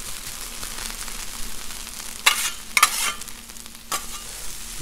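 Pork chops sizzle steadily on a Blackstone griddle, a close, constant hiss broken by a few sharp scraping clanks near the middle.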